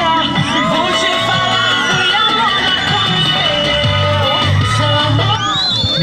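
Audience at a Brazilian stage show in São Cristóvão cheering, whooping and yelling loudly and continuously, a dense crowd roar with scattered shouts throughout.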